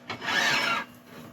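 Sanding a turned grass tree root stem on a lathe: a brief, soft abrasive rasping burst under a second, fading quickly into quiet.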